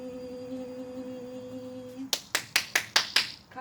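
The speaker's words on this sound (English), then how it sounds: "Clapping's a dispersal of energy" Hands clap six times in quick succession during an energy healing session, sharp and close, following a quiet stretch with a faint steady tone in the background.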